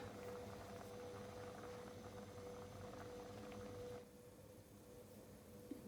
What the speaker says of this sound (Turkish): Pirinçlerimiz suyunu çekene kadar kaynıyor.